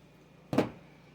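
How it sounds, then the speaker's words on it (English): Scissors snipping off the excess end of a zip tie on a DIY fall wreath, a single short faint crisp cut in an otherwise quiet room. "Just cut the excess off."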